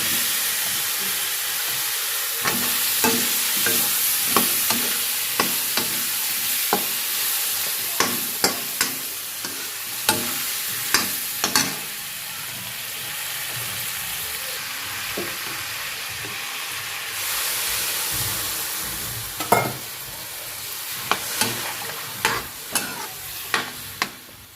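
Brinjal tempered in hot oil in a home kitchen, with a steady frying sizzle and steam hiss under repeated sharp clicks and scrapes of a spoon stirring against the pan, continuing throughout without speech.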